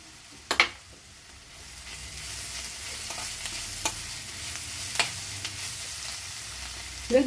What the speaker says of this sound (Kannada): ಇವಾಗ ಇದೆಲ್ಲ ಚೆನ್ನಾಗಿ ಫ್ರೈ ಮಾಡೋಣ.